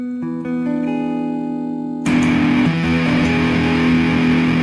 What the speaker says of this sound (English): And this is a distortion and tone at noon.